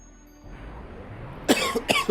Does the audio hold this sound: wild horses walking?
no